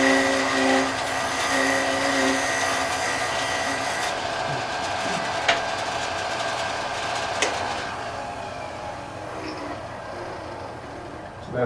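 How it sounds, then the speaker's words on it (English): A woodturning gouge cuts a wooden top spinning on a lathe, giving a steady rasping hiss over the machine's constant hum, with a couple of sharp ticks and the cut easing slightly toward the end. "now I can turn the bevel up and get a little smoother cut"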